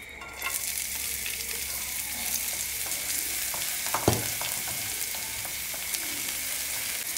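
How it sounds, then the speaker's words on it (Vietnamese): Minced, crushed scallion roots hit hot cooking oil in a pan and sizzle steadily and closely after a brief quiet start, with one sharp crackle partway through. "Khi dầu đã nóng các bạn sẽ cho gốc hành đập dập băm nhuyễn vào,"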